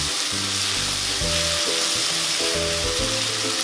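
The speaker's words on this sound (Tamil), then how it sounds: "தக்காளியும் நல்லா வதக்கிக்கணும்." Onions and chopped tomatoes frying together in a pan while cooking Tamil-style egg rice, giving a steady close sizzle with occasional stirring scrapes and no talking.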